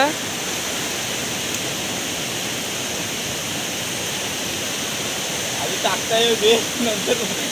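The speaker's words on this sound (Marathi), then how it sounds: "जास्त पाऊस पडल्यामुळे नदीला पाणी बघा किती पुढे जाऊन पाणी बघा" Loud, constant rush of a rain-swollen river fills the whole clip, with a few faint higher sounds near the end.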